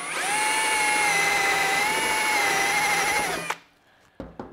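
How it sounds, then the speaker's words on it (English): A power drill bores a hole into a reservoir, a steady high whine held for several seconds before it cuts off, followed by a few faint knocks and clicks, close and loud. "To add it into any reservoir, all you have to do is drill a hole."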